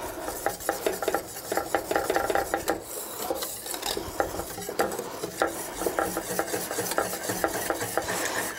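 A spoon stirs a melted semi-sweet chocolate mixture in a pot, making rapid rhythmic scraping strokes against the bottom with a faint sizzle underneath. It is close and continuous, with no talking.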